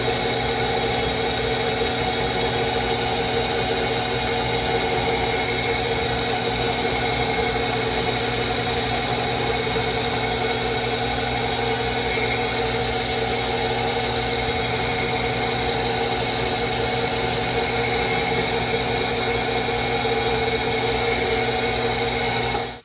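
Continuous whine of a hand drill boring into metal on an AK rifle parts kit, a steady droning buzz with a harsh high edge, close up and unbroken until it stops abruptly.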